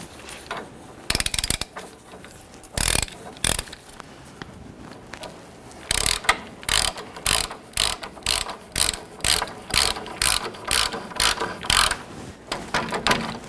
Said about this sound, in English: For our tool, we'll be using a 19mm socket down along the bottom of the control arm here with our ratchet.